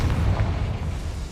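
A Confringo blasting spell goes off in Hogwarts Legacy, a single dense, rumbling explosion that sits loud and heavy from start to finish of a short burst, with no voices.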